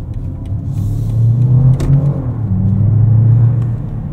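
A steady low synthetic hum from the synthesized driving sound mode of a 2024 BMW 750e xDrive plug-in hybrid fills the cabin, droning beneath a faint engine rumble, rising slightly and holding level throughout.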